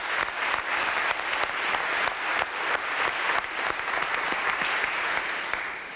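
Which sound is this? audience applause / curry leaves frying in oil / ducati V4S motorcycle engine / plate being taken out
audience applause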